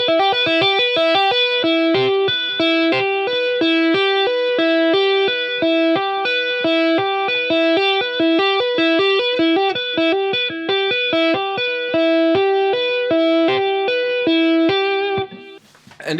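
Fast electric guitar lick with effects and distortion, rapid repeating notes played continuously and loud, ending abruptly.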